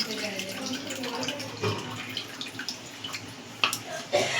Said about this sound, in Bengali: এবার আমরা এর মধ্যে দিয়ে দেবো তেঁতুলের জল, ছেঁকে দিয়ে দিতে হবে।